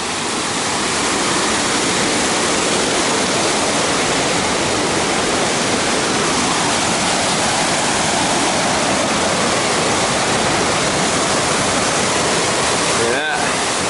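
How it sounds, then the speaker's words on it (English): A small waterfall along the Ramsey Cascades trail near Gatlinburg pours in a constant, loud, broadband rush of water that stays steady throughout, with a brief knock near the end. "Got ourselves a little waterfall."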